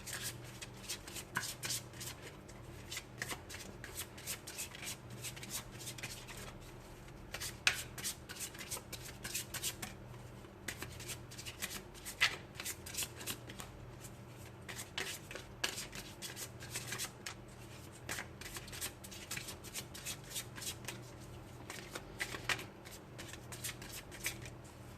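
Tarot cards are shuffled close by for a long stretch. Rapid papery riffles and flicks come in repeated bursts, with brief pauses between them. The sound is fairly quiet, with no talking.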